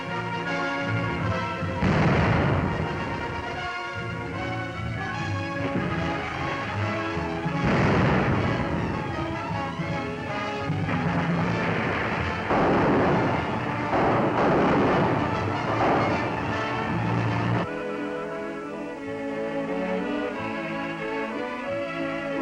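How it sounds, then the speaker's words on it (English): Depth charges explode during a naval attack, with heavy booming blasts and rumbling surges rising and falling over a long stretch amid a dense, continuous roar. "Stand by for depth charge attack."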